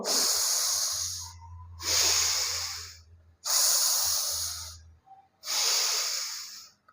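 Four deep breaths are drawn in and pushed out in a slow, even rhythm during a yoga exercise for heel pain, each one a loud airy rush with brief pauses between.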